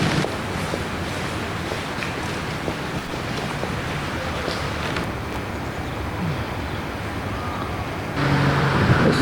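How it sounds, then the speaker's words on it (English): Steady outdoor wind blustering with a constant wash of rain on a cold day near Château de Vaux-le-Vicomte, France, continuous and fairly loud, swelling slightly near the end. "it's a very cold, windy, rainy day"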